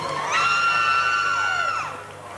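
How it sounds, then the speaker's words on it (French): Supporters at an equestrian show-jumping competition in The Hague, 1994, shout and whoop in a loud sustained cheer from a crowd at some distance, rising and then fading. "Avec quelques supporters qui hurlent."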